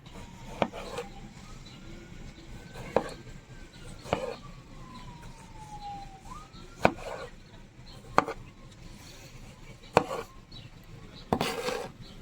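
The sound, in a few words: chopping tomatoes for a salad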